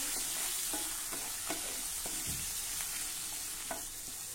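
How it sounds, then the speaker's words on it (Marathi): Sweetcorn kernels sautéed in a pan for vatli dal, giving a soft continuous frying hiss with light, irregular scraping strokes of the spoon, faint and without talk. "आता हे आपल्याला जरा परतून घ्यायचं आहे"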